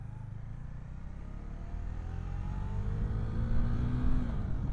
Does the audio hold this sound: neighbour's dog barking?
no